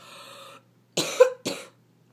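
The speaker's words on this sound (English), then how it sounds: "the cough's gotten really bad right now." A person sick over the holidays coughs twice in quick succession, harsh and close, after a brief tonal hum, with no talking.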